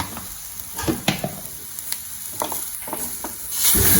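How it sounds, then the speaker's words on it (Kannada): Grated coconut dry-frying in a pan without oil, with turmeric, for a chicken curry, giving a soft steady sizzle with intermittent stirring scrapes, close and fairly quiet. "ತೆಂಗಿನಕಾಯಿನ ಚೆನ್ನಾಗಿ ಫ್ರೈ ಮಾಡಬೇಕು."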